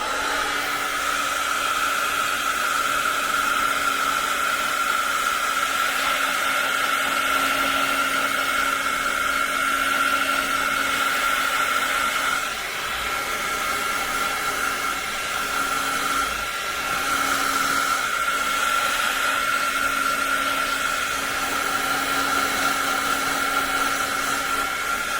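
A hair dryer runs steadily on a watercolor painting of wildflowers, giving a loud, continuous whirring blow with a constant tone and a brief dip partway through, with no talking.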